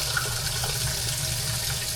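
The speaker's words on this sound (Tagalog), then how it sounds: "Tapos lagyan na natin ng tubig." Water is poured into a cooking pot in a steady, continuous splashing stream, close and fairly loud, with no talking heard.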